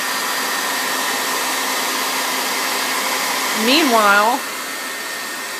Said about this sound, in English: we get the blow dryer. To dry the glue.